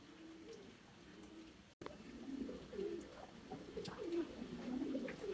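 Fancy pigeons at a farm in Natore, Bangladesh, coo in low, repeated rolling calls that overlap steadily from close by, with soft rustling between them and no talk.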